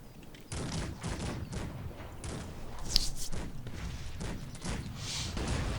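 Repeated bursts of distant cannon and gunfire and heavy booms roll on steadily in the strategy game Cossacks 3, with rapid rattling shots and thuds layered in a busy battle soundscape.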